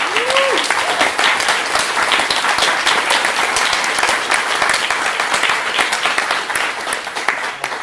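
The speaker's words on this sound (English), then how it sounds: "Let's give these people up here a big round of applause." Conference audience breaking into loud, sustained applause, a dense roar of many hands clapping that holds steady for several seconds; a brief voice is heard at the very start.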